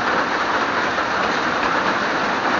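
Heavy morning rain pours down in a steady, dense hiss that fills the whole clip at close range, with no breaks and no voices.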